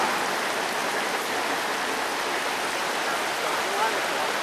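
Steady broadband rush of a waterfall and streams running beside a road in Norway, constant and close with no breaks.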